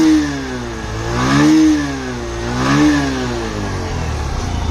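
A Bajaj Platina 100 Comfortec BS6 Phase 2 motorcycle idles nearby, its small single-cylinder engine putting out a steady thrumming exhaust note with two gentle revs rising and falling.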